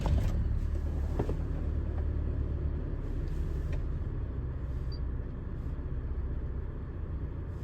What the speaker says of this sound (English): I'll start up the truck.